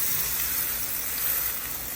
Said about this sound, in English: now we're deep frying them